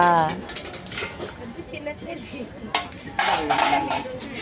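Steel utensils and plates clink and clatter in a store's steel section, close by and intermittent, with people talking throughout.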